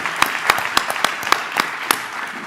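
Audience at a college lecture event applauding Chef Bryant Terry, heard as sparse, evenly spaced individual claps over a diffuse background of scattered clapping, moderately loud throughout.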